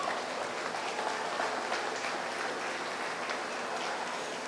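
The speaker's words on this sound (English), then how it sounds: "Let's give these young people a good round of applause." Audience applause at a 4-H sheep show, a steady, dense wash of clapping that holds at an even level throughout without a break.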